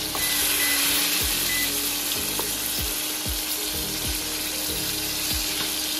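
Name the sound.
KFC-style chicken deep frying in oil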